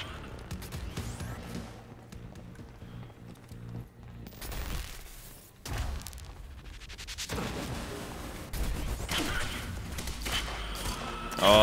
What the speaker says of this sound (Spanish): como suenan los tiros aquí atrás